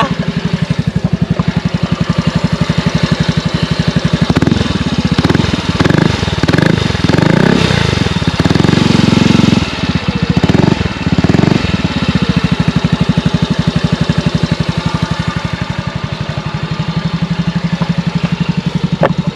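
A motorcycle engine runs close by with a loud, throbbing idle, punctuated in the middle by several quick throttle blips before settling back.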